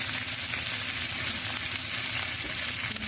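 Cabbage for pancit bihon with oyster sauce stir-fries in a hot pan, a dense continuous sizzle and crackle with scraping stirring sounds close by and no talking.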